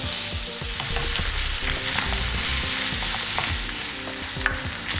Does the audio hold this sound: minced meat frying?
yes